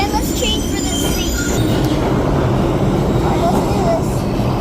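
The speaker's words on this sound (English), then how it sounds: "Wow, guys, here's the 6th train." A New York subway 6 train fills the space with a loud, continuous rumble of wheels and car noise, with faint metallic squeals rising at moments and a voice briefly audible beneath it.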